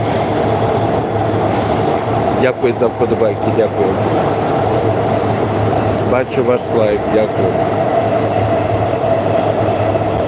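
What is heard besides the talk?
metro train cars from Warsaw moving through station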